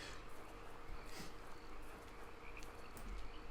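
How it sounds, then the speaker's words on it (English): A frog croaks faintly in the video game HOME, its low calls set against a soft, buzzing insect-like ambience that runs throughout. "Okay, that's just a frog."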